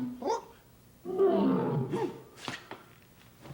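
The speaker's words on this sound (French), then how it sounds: "Un lion." A deep, growling roar swells and fades, followed by a few short rough calls; fairly close and isolated.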